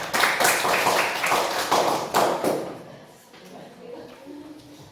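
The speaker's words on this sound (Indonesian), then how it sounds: "Ya, tepuk tangan dulu." Students in a classroom clap together after a group presentation, a burst of applause lasting a couple of seconds that then fades into quieter room noise and a faint voice.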